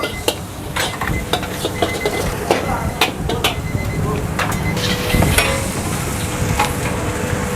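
Nasi goreng kampung is stir-fried in a wok at a busy food stall, with loud close metal scrapes and clangs striking in a quick uneven rhythm over steady sizzling.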